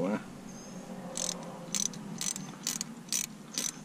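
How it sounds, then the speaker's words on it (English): Ratchet wrench loosening half-inch bolts on a Dodge Challenger shifter assembly, a series of about six short, crisp clicking bursts in a steady rhythm, close by over a quiet room hum. "I'm just going to loosen them just so I can get the handle out."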